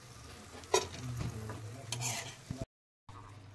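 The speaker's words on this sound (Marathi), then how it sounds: "आता मी डिंक तळताना थोडं थोडं घालून घेणार आहे" Edible gum fries in ghee in a deep pan, giving a soft, close sizzle with scraping stirring strokes and a few light clinks against the pan, then a brief silent gap before the frying sound resumes.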